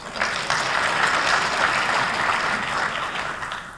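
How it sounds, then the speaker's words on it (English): An audience at a city's State of the City 2024 event gives a round of applause, a dense, steady clapping that holds throughout and tapers slightly at the end. "Let's give Serve Pro of Lufkin a round of applause,"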